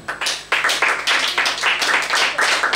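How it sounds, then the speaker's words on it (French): Audience clapping to welcome an artist on stage at a props-makers' awards night in Cotonou, steady and moderately loud with rhythmic surges, a fairly small crowd close by. "Merci, mesdames, messieurs, d'applaudir très fort"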